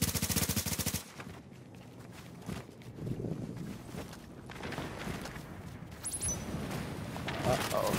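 Rapid turret gunfire in a video game, sharp repeated bursts at the start followed by scattered shots and clatter, with voices talking over the action.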